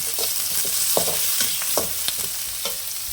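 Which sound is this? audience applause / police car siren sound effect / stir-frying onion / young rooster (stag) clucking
stir-frying onion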